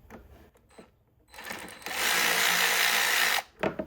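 A power tool whirs loudly for about two seconds while loosening a hose clamp on a Chevrolet Colorado 3.6L engine, preceded by a few small clicks and handling noises.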